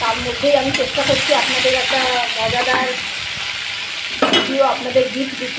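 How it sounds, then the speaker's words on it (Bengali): Fish frying in a pan on a rainy day sizzles steadily, with scraping stirs and a clatter, beneath a person talking close by. "মাছটা ভাজা হতে থাকে।"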